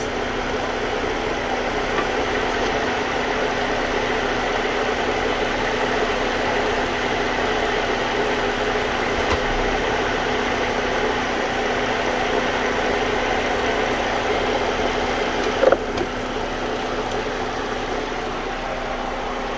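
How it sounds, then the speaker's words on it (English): A warmed-up Ford engine idles steadily after about ten minutes of running during a transmission fluid check, giving an even, continuous mid-pitched drone with a faint hum and one small knock near the end. "The vehicle's been running for about 10 minutes."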